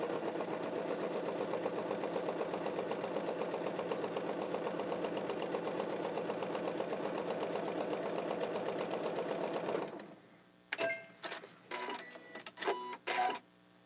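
A sewing machine chain-pieces cotton quilt fabric into half-square triangles, running in a fast, even mechanical whir for about ten seconds, then stopping and giving way to several short clicks and bumps of fabric handling.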